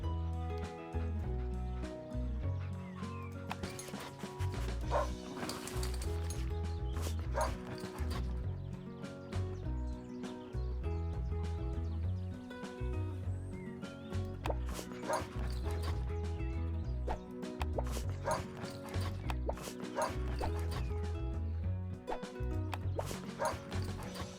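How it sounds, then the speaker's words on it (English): Cartoon dog barking repeatedly in the farming video game Big Farm: Mobile Harvest, with yips and whimpers over steady looping game music, no talk. "There's also a dog."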